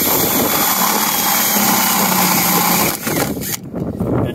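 Power drill boring a 1.25-inch hole through a container wall for a bulkhead fitting on a compost tea brewer, a loud steady whine close by that drops off near the end.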